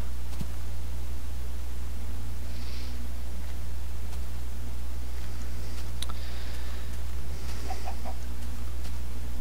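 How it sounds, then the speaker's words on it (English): A Minecraft chicken clucks in short, faint bursts over a constant low hum and hiss of game background noise. "Also check if the chicken has laid an egg or not."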